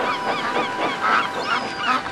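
A duck on a river quacking repeatedly in a loud, honking rhythm, a steady string of nasal calls lasting a couple of seconds with no voices over it.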